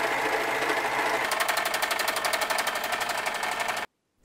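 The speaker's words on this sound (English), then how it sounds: "Here's the Serger again." A Singer Pro Finish 14CG754 serger sewing machine runs at speed, a loud close rapid mechanical chatter that quickens into a dense rhythmic clatter before stopping abruptly near the end.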